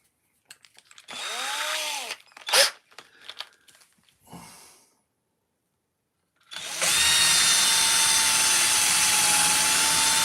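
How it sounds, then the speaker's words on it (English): A small drill bit bores into a wood carving, a sustained high whine starting loud after a quiet gap, preceded by short bursts of spinning up and scraping handling noises. "I'll need to do them with a smaller drill."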